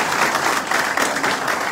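Steady applause from an audience at a traditional breakfast meeting, a dense continuous patter of many hands clapping at even loudness throughout.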